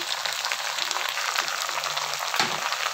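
Mustard seeds and ginger-garlic hitting hot oil in a pan, a dense, continuous close sizzle and crackle throughout, no speech.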